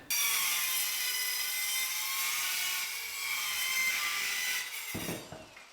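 A power saw cuts through wood pieces for workshop shelves in a loud, steady whine lasting about five seconds, then it winds down and stops with a short clatter near the end. No one speaks.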